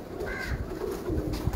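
Pigeon cooing among breeder pigeons in Chakwal, soft and near, in low repeated coos against a steady background murmur.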